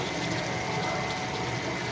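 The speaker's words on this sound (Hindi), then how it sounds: "इसमें थोड़ा सा मैं पानी डालती हूँ" Water pours steadily into a hot frying pan of frying masala for bhindi mutton gosht, a continuous gushing hiss with no pauses, close by and fairly loud throughout.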